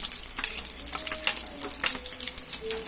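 Tomatoes sautéing in a pan for spinach with sardines, a steady close sizzle and crackle of frying running throughout, with faint stirring and no voices.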